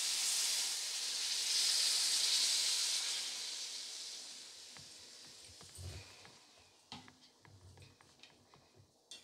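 Water poured into hot sizzling spiced masala paste for an aar fish curry, a strong broad hiss and steam that slowly fades, then quieter stirring taps and clinks toward the end.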